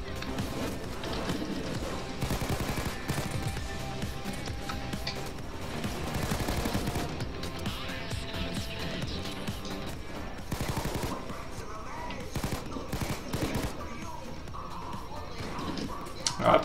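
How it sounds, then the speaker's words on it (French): Dense, sustained gunfire from a Payday 2 heist, with rapid automatic bursts layered over game music and effects, loud and continuous throughout with no break. "Je me mets à tirer des milliers de balles."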